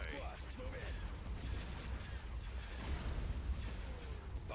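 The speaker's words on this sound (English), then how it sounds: "Bombs away." Bombs detonate during a space bombing run in the Star Wars: Empire at War mod Thrawn's Revenge, a steady rumbling barrage of booms and blasts over a dense battle din, with faint radio chatter in the mix.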